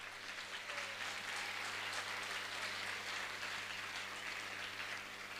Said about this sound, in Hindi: एक बार दोनों हाथ ऊपर उठा करके जोरदार तालियां तो बजाएं